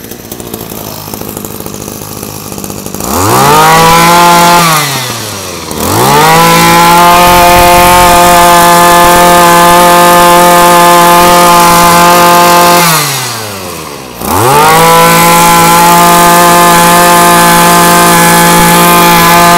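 A Japanese-made brush cutter engine runs close and loud, revving up and holding a high steady whine, dropping briefly to idle twice before revving up again.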